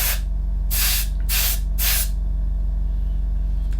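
Airbrush or spray can misting paint onto a part of a Tamiya 1/20 RB6 model car, in three short hissing bursts in a row, close and fairly loud, then a quiet pause.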